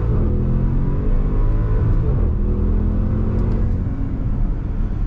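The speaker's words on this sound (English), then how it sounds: "Love the sound of that 4-liter twin turbo V8." The 4-liter twin-turbo V8 of a Bentley accelerates with a loud, deep, continuous engine rumble heard from inside the car, rising in a smooth, unbroken drone.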